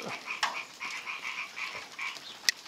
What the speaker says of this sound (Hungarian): a békák is beindultak